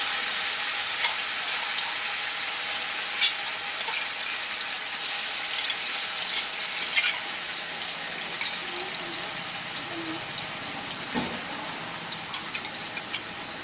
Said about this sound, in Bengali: এখন আমি প্রথমেই এই পেঁয়াজ, আদা, রসুন আর কাঁচা লঙ্কার পেস্টটাকে দিয়ে দিলাম।